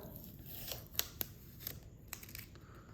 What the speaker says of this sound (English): Just peel this off